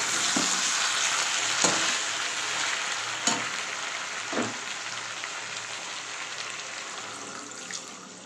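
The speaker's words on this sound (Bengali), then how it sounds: "এবার আমি এর মধ্যে জল দিয়ে দেবো।" Curry sizzling steadily in a pan, a bright continuous hiss with a few soft knocks of stirring through it, staying loud and close for the whole stretch without any talk.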